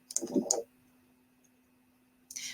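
Computer mouse clicks: a short cluster of two or three close, crisp clicks at the start, then a quiet pause, then another click near the end, faint against a low background hum.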